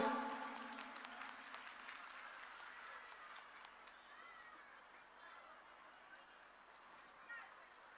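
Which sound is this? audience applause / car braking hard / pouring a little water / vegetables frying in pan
audience applause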